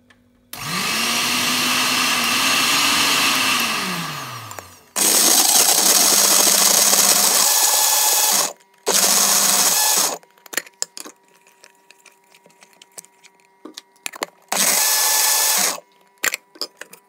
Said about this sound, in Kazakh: Біз келесі кезекте апельсинімізді блендердің көмегімен өткізіп аламыз.